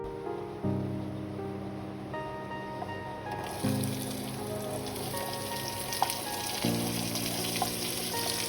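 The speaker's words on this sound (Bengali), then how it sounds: "ওই মাছ ভাজার তেলে অল্প কিছুটা জিরে আর গোটা গরম মশলা দিয়ে ভালো করে পেঁয়াজগুলোকে ভেজে নেব।" Onions frying with cumin and whole garam masala in leftover fish-frying oil, a steady close sizzle running throughout with light stirring, while soft tonal background music plays alongside.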